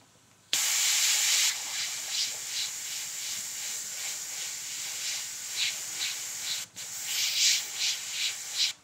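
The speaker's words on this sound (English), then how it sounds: "I'm just spraying over this bottom area" Continuous airbrush-style paint spray hiss worked by hand over a lower area of a portrait painting, a steady close rush with short pulsing bursts and one brief pause near the end.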